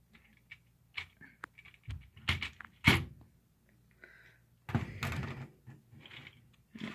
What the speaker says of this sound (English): I'm just going to take the turret off